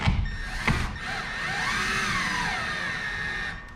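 A cordless power drill drives a screw while mounting a garage door opener wall button, a short whirring burst that rises and falls in pitch over a few seconds, close and alone.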